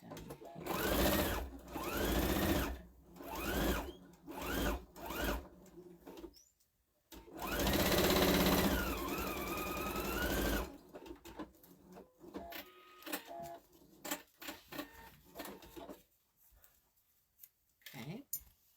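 A sewing machine stitches a Santa placemat in several loud, whirring bursts of varying length, separated by pauses, clicks and handling noise, with a person talking between runs.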